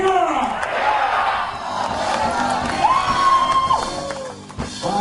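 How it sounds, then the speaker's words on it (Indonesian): Big crowd at a campaign rally in Sangkuriang Stadium, Cimahi, cheering and shouting with clapping mixed in, loud and sustained, with whistles and voices rising over the roar. "Tepuk tangan untuk kita semua."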